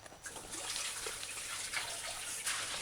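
Cabbage is rinsed under a running tap, a close, steady splash and trickle of water with small bursts as the leaves are moved.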